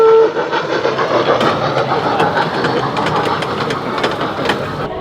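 A train rumbles steadily along a looping track in an indoor shopping mall, CF Don Mills in Toronto, with faint clicks and rattles in a continuous moderate wash and no talk.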